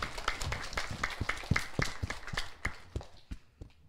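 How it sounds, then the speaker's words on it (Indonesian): Scattered applause from a small audience at a kindergarten performance event in Singaraja, with uneven hand claps that thin out and become sparser toward the end. "Berikan tepuk tangan"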